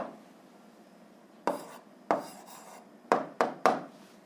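Pen scratching on paper while an answer is written down during a physics problem, a few quiet scraping strokes and sharper taps near the microphone, no talking.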